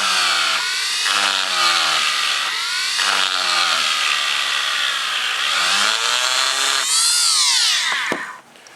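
A power tool grinds a groove into the plastic housing of a 2007–2008 Nissan Maxima headlight, a loud close whine that rises and falls in pitch as it bites and eases, with no talking.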